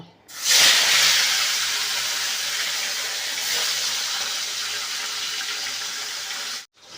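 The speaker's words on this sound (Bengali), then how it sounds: "কড়াইতে তেল দিয়ে দিয়েছি তেলটা গরম হয়ে গেছে এবার মাছগুলোকে ভেজে নেব" Parshe fish dropped into hot oil in a wok, a sudden loud hissing sizzle that holds steady and close for several seconds before cutting off.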